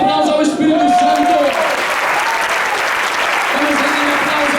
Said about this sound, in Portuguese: Renda um aplauso ao Espírito Santo.